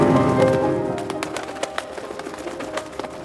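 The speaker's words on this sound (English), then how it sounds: "Your pigeon." A pigeon coos softly and close by in a low, rolling call, followed by a few brief clicks and faint bird sounds.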